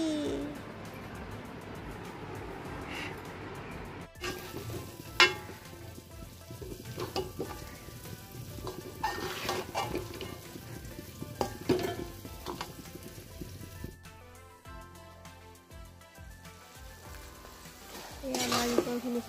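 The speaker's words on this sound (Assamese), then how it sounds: "নাৰিকলখিনি ভাজি আছোঁ।" Grated coconut frying in a pan for laddu, a soft steady sizzle with scraping stirring strokes, quiet and close, with a brief pause and a few clatters.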